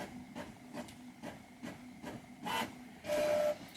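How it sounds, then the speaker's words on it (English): A Canon Pixma MP640 inkjet printer works through a page nearby, giving a regular series of short mechanical whirs and shuffles that end in a louder feed-and-motor surge. "I'm just having to print something out. Let's wait for that print to finish."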